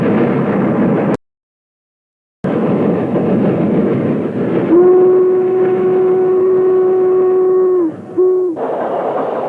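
A Norfolk and Western steam locomotive hauls an eastbound extra train at milepost 282. Its loud, rumbling passage breaks off briefly, then a long steady whistle blast sounds, followed by a short one, over the continuing roar.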